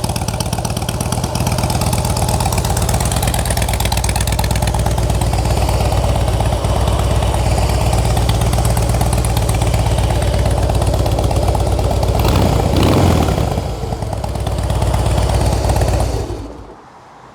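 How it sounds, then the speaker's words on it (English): A 2007 Harley-Davidson Softail Custom FLSTC engine idles steadily and loudly at close range, a smooth low rumble with a brief rev near the end before fading. "Nice healthy engine sound."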